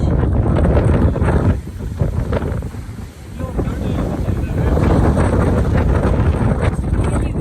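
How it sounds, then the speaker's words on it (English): Strong gusty wind buffets the microphone on Hawaii's green sand beach, roaring loud and steady with brief lulls, with surf blended in and a voice talking through it. "It's really windy"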